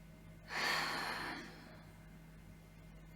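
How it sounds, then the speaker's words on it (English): A single deep inhale and exhale during a calm yoga relaxation session, a soft breathy rush that rises, holds briefly and fades into quiet room tone, close and gentle. "taking a deep breath in and a deep breath out"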